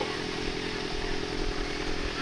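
A motorcycle engine running very hot idles nearby, giving a steady, rough, buzzing drone with no other sounds over it.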